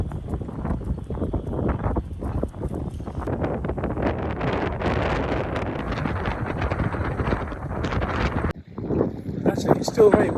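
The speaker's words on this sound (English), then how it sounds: "Actually, it's still very windy today" Strong wind buffets and roars across the microphone almost the whole time, gusting loudly with brief lulls.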